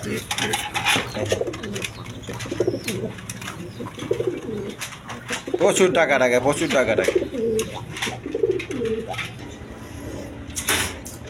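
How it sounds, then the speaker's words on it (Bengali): A pair of Chuyachandan pigeons coos softly and repeatedly, with throaty rolling calls swelling midway, under someone talking. "দর্শকবৃন্দ এখানে এক পেয়ার চুয়াচন্দন কবুতর আছে"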